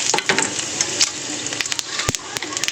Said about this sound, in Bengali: আগে তেলের মধ্যে দিয়ে দেবো শুকনো লঙ্কা ফোড়ন